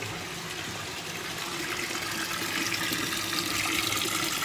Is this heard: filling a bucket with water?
yes